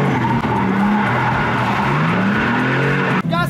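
A car drifting with long, loud tire squeals and skidding over a constant engine roar, swelling and sliding in pitch, close and continuous with no talk.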